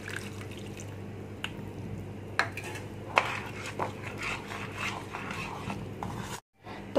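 Hot milk is slowly mixed into cake batter in a bowl, giving soft wet stirring with occasional light clinks of a utensil against the bowl, steady and close, with a brief dropout near the end.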